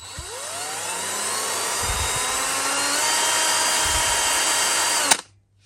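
A Parkside PABS 20-Li E6 20V 45Nm cordless drill whirs loudly and close, its pitch rising as it speeds up through its speeds, holding steady, then cutting off abruptly with a click.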